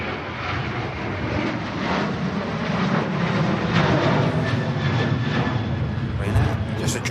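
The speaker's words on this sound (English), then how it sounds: "RyanAir first departure as we move over to single runway ops" A Ryanair jet departs Manchester Airport during single-runway operations, its engines a loud, steady broadband roar that fills the whole stretch without letup, while a voice speaks over it.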